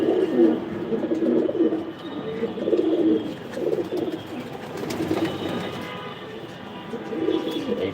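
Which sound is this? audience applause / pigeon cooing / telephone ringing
pigeon cooing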